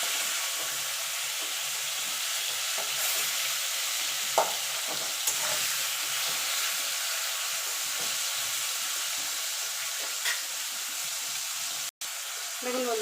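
Potatoes and tomato frying together in a pan with a touch of salt, giving a steady, close sizzle and crackle with occasional stirring scrapes throughout, no talking over it.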